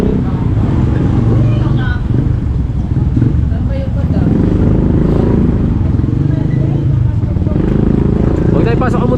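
A motorcycle engine drones steadily and loudly nearby along a residential street, with a continuous low rumble throughout and voices talking over it.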